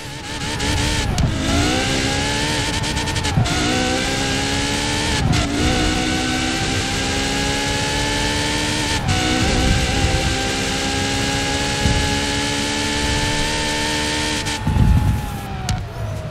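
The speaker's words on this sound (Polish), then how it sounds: "Dźwięk jest inny, no mamy tu V12, tylko że hybrydową, prawda?" Ferrari Pista with a hybrid V12 engine in Forza Horizon 4, revving loudly and steadily with rising and falling pitch sweeps and brief gear-shift dips, close and continuous with no talk.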